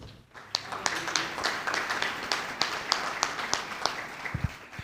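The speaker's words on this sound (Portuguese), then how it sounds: "Quem entendeu, vamos dar uma salva de palmas" Church congregation clapping, a scattered round of applause with distinct individual claps in a loose rhythm, moderately quiet and building briefly before a low thump near the end.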